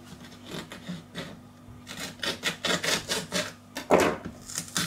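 A knife saws and nicks through a plastic tomato sauce packet in the kitchen, giving a run of quick, close rasping strokes that ends in one louder cut, with no talk.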